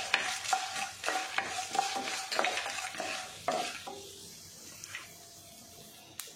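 Dried red chillies and peanuts fry in a pan, sizzling steadily while a spoon stirs and scrapes with repeated clinking strokes, close and moderately loud.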